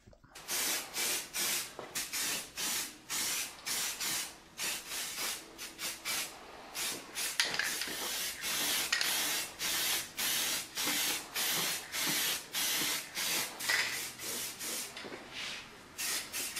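Repeated bursts of spray hiss in a steady rhythm, each lasting about a second with short pauses between, close and fairly loud.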